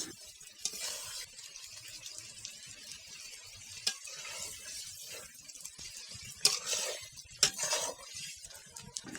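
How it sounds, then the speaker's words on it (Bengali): Spiced broiler chicken sizzles in a pan while being stirred, with scraping spatula strokes and a few sharp clinks over a soft frying hiss. "এখন চুলার আঁচটা বাড়িয়ে গোশগুলো নেড়েচেড়ে রান্না করতে হবে। নেড়েচেড়ে ভালো করে ভাজা করে নিতে হবে গোশগুলো।"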